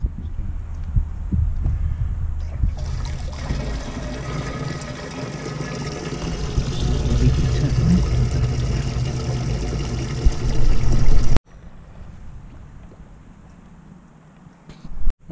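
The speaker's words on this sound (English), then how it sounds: "so I'm just going to fill up the tap" Water runs from a motorhome tap while the fresh-water system is filled with a Puriclean sanitising solution, a steady rushing flow lasting about eight seconds before it stops, leaving quieter handling noises.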